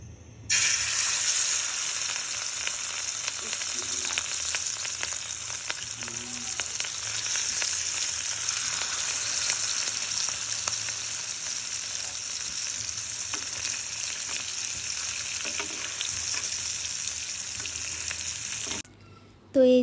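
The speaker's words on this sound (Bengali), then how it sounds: "তো এই তো এখন আমি মাছটাকে খুব ভালোভাবে ভেজে নিব অল্প আঁচে।" Marinated fish fries slowly in a pan over low heat, giving a steady, continuous sizzle with soft crackles that holds for nearly twenty seconds before cutting off briefly near the end.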